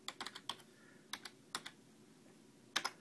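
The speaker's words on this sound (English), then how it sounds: "I'm typing with one hand" Someone types on a computer keyboard using one hand, faint, close and sparse key clicks in small irregular clusters separated by pauses, in a quiet room with no talk.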